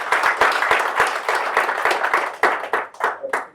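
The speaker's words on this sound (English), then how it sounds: "I think we should give you a round of applause" A small group claps during a Liberian community discussion, close and fairly loud, with distinct individual hand strikes that grow sparser and more scattered toward the end.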